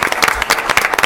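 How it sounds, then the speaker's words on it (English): A crowd at a village council meeting claps in a dense, even burst of applause, loud and close, lasting only about a second. "So an applause to her before we swear in the dog."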